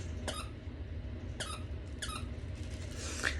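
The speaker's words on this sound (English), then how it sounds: "do you have to do that with the squeak toy" A squeak toy squeals in short sharp bursts, four of them spaced unevenly, over a steady low room hum with no talking.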